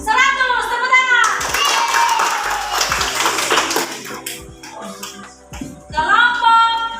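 A group of children in a classroom claps hands together in a brief burst of uneven, close claps, with kids' voices chattering and shouting before and after.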